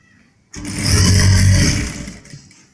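A sewing machine stitches a canvas bone onto a trouser back pocket. It makes one steady, loud whirring run of about two seconds that starts sharply and then slows and fades.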